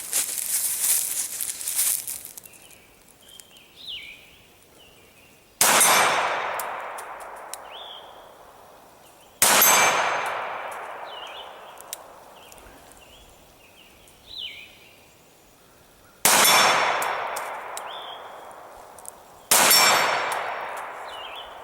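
A Springfield Armory TRP railed 1911 pistol fires about five sharp, loud shots outdoors, spaced several seconds apart, each followed by a bright metallic clang and ring from a 10-inch steel target plate.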